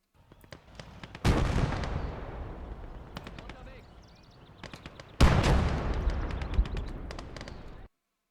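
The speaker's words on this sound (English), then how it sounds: "They've got a 120mm cannon pushing down the hill there." Tank cannon fire from a 120mm gun in the Gates of Hell: Ostfront war game, with two heavy booming blasts several seconds apart that roll off in long echoing tails, mixed with scattered distant gunfire cracks.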